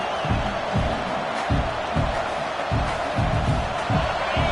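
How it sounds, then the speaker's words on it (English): Stadium crowd at a football game roaring in support of the defense, a loud, sustained wall of cheering with rhythmic surges of chanting and stomping pulses underneath. "Listen to this crowd just shaking the girders of this place, trying to help their defense"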